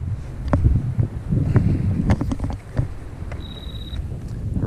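Wind gusting across a lake around a fishing boat, a steady rumbling buffet on the microphone with rustling and small knocks, close and fairly loud.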